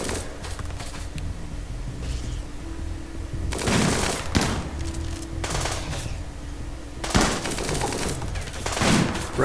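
Rapid bursts of gunfire rattle out during a raid on a colony in the video game Rimworld, with loud volleys, quieter pauses between them, and crackling shots underneath.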